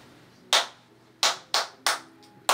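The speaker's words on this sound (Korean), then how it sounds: "박수 쳐." Several people in a recording studio clap in a handful of sharp, separate bursts, about five claps spaced unevenly and heard close against a quiet room.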